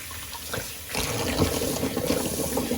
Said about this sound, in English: I'm gonna empty Sigmund the Little Sea Monster sink because there are lots of whiskers floating.